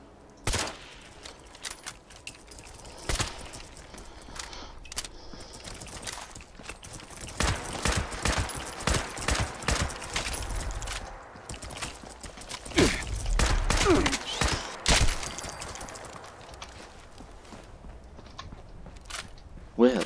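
Gunfire in the video game Fallout 76, bursts of rapid sharp shots in clusters, dense through the middle, with speech-like sounds and other game noises between them.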